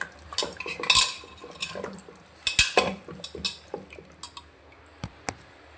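Mutton mixed by hand or spoon with ginger garlic paste, salt and turmeric in a metal vessel, giving close, irregular clinks and scraping clatters with brief wet squelches, no talking.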